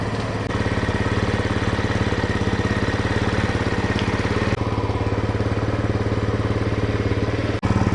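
A 2019 TaoTao Hell Cat Raptor 125cc motorcycle engine runs steadily close by with a fast, even putter and a light mechanical clatter, loud and alone, with one brief knock near the end.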